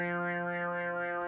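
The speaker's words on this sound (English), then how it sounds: "what you're hearing is actually the cutoff going wow" A synthesizer tone held steady while its filter cutoff wobbles back and forth in a regular wah-like pulse, about three sweeps per second, loud and alone.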